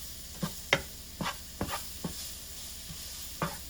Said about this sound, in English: you want to continue to stir it